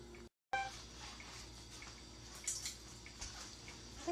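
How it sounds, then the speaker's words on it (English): Water from cooked pumpkin pours and drips as it drains in a kitchen, a steady, close splashing trickle with brief louder spurts and a short gap of silence near the start. "now that I've drained all the water out"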